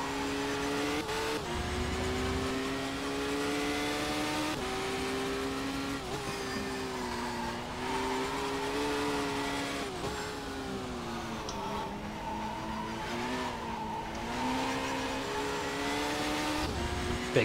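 A race car engine in the video game Race 07 drones loudly and steadily, with its pitch rising and falling as the car shifts and brakes through the lap, and occasional tire squeal.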